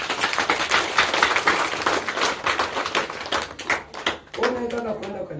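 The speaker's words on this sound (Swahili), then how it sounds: "Pigia Yesu makofi." A church congregation claps together in dense, rapid broadband bursts that sound fairly near and loud, with voices mixed in and a sung or chanted tone rising near the end.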